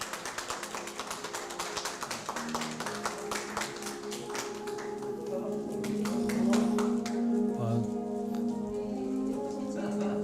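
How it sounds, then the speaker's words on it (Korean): Audience applause at a Korean health-care professionals' day award ceremony, a steady patter of many hands clapping with music playing underneath, swelling slightly toward the end. "큰 박수 부탁드리겠습니다."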